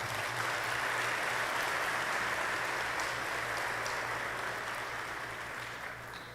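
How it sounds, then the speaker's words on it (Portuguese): Applause from a medical lecture audience, a steady dense wash of clapping that holds evenly throughout and thins slightly toward the end, with no voices over it. "Gostaria que vocês se aplaudissem"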